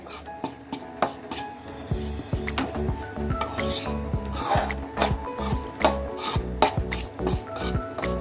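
Atta halwa (kada prasad) being stirred and roasted in a pan with a spoon, giving repeated scraping and knocking strokes against the metal and a soft sizzle underneath, steady and close, with no talking.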